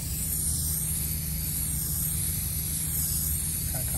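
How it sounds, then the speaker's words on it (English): Continuous hissing spray paint being applied to cardboard with back-and-forth strokes, close and steady for the whole stretch, with no talking. "As you can see, I'm spray painting on cardboard."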